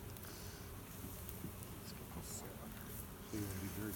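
Honey bees drone steadily around a hive during a beekeeping class, a continuous close buzz lying under people talking.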